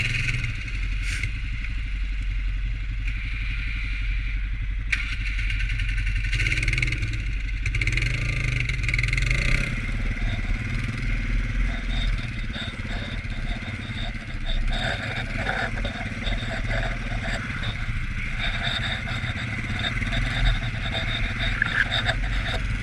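A 2021 Honda Rubicon 520 utility ATV rumbles along off-road with a steady mid-pitched engine drone, clattering suspension and rattles, heard close from the rider's position with occasional throttle changes.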